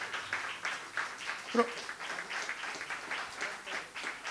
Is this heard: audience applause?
yes